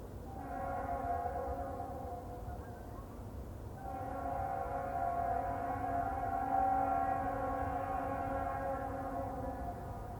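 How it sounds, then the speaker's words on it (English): A GE Dash 9-40C locomotive leading an autorack freight through Richland sounds its badly fouled RS3L air horn, a harsh, buzzy multi-tone chord held in two long blasts with a short break between, moderately distant. "Autorack Train 290 heads through Richland led by 8797 with its really fouled RS3L horn"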